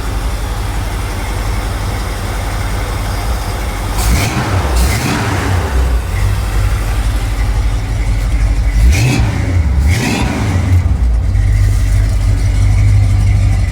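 A 1969 Plymouth Roadrunner, parked for 25 years, runs loudly and steadily after restarting, its meaty idle rumble swelling into two brief revs before settling back down.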